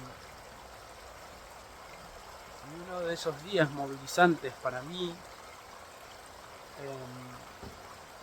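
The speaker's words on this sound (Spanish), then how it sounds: "Estamos acá en un escenario al lado de un río hermoso" A river beside an outdoor setting near home in Spain, a steady soft rushing flow of water running throughout, faint and continuous under a man's speech.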